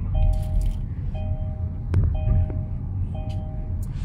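A car's seatbelt warning chime inside a taxi, repeating in short evenly spaced beeps about once a second over low road rumble and engine hum.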